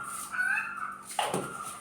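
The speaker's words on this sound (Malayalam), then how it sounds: "കോഴി എന്തിനാ അങ്ങനെ കരയുന്നത്." A hen cries out nearby with a short run of rising clucks, followed by a sharper squawk, faint and isolated against a quiet background.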